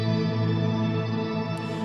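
Lightly finger-picked electric guitar played high on the fretboard through a reverb effect, forming a smooth, sustained, shimmering wash of ringing notes with no distinct attacks.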